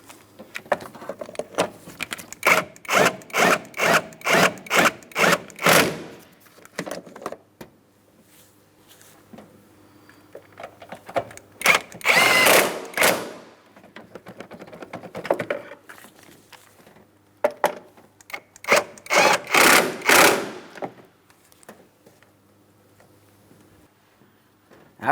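A power tool snugs up transmission mount bolts on a 2008-2016 Chrysler Town & Country 3.8L V6, whirring and rattling in several short bursts separated by quiet gaps.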